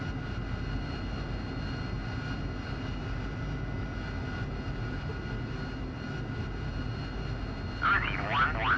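Jet aircraft engine running during startup in the DCS World flight simulator, a steady broad roar and hum throughout with no talk, and a brief rise near the end.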